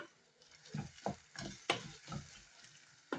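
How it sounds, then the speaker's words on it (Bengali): Red amaranth greens being stirred slowly in a pan, giving soft, close scraping and shuffling strokes with a faint sizzle, spaced in an uneven rhythm and fairly quiet. "কিছুক্ষণ আমি নেড়ে নিচ্ছি আস্তে আস্তে করে আমার লাল শাকে"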